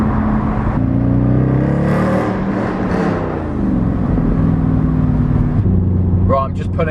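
A Mercedes C63 drives at a steady engine drone with shifting tonal whine, the car easing off as it pulls up, loud and close throughout, with a voice speaking over it.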